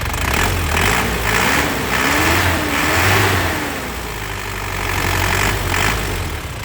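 A car engine revs up repeatedly in bursts over a steady idle, the pitch rising and falling with each press of the throttle, loud and close.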